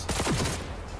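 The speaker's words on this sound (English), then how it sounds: "I think I've got my character with a better gun for a long distance fight like this. Each press does 3 bullets." A quick burst of three-round gunfire from a long-range weapon in Cyberpunk 2077, rapid close shots fired in one tight cluster, then a short fading tail.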